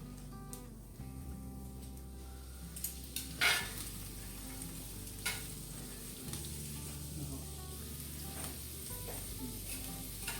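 Jalapeños fry in light-tasting olive oil in a skillet, a steady close sizzle with a few clinks and stirring sounds over a low hum, and no one speaks.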